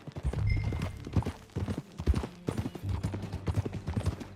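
Horse hooves clip-clopping at a steady walking rhythm in Red Dead Redemption 2, close and fairly loud, with a few low game sounds mixed in.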